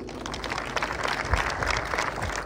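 An audience at a teahouse event in Moscow applauds: a dense, continuous wash of many hands clapping at steady volume, close by with no pauses.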